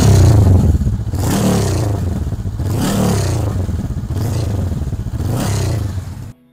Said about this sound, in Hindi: और अगर मैं आपको इसकी रेव करके सुनाऊं तो आप सुनना कैसी आ रही है।